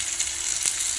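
Chopped large onions fry in a pan with a loud, steady crackling sizzle close up, one brief sharper pop in the middle and no voices.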